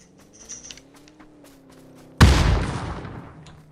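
A single loud, close gunshot from PUBG crashes in after a quiet stretch of soft game ambience, then decays over about a second.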